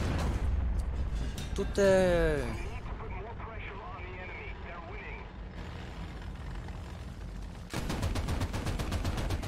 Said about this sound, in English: Ah, goddammit, artillery.